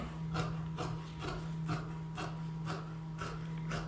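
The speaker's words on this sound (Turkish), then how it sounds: "bir önceki videomdaki kol detayının kesimini yapıyorum" Scissors cut through fabric for a balloon-sleeve tunic in a steady run of crisp snips, about two per second, close by over a low steady hum.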